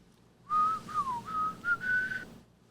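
A clear melodic whistle from a song sample plays a short wavering tune for about two seconds, alone with faint background hiss.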